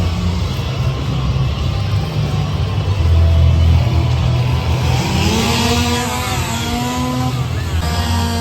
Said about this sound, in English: Nice chainsaw.